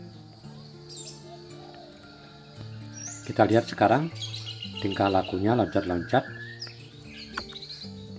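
A pet orange-headed thrush kept at home gives clear whistled chirps and calls in two short bursts, close by, while someone talks softly.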